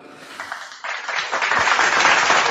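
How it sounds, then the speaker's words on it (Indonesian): An audience applauds during a religious debate, clapping that starts thin, then swells into a loud, dense round that keeps building to the end. "tepuk tangan dulu"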